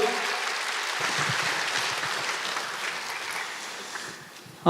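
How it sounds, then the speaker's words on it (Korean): Audience applause from a church worship gathering fills the room, with steady clapping for the worship team that gradually thins toward the end before a sudden louder burst at the close. "다시 한번 러빔 나올 때도 박수 한번 주시고요"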